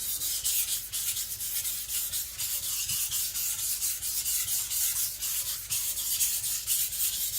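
An IKEA Chinese cleaver is drawn across a sharpening stone to a very fine edge, giving a steady, close scraping rub in quick repeated strokes with no talk.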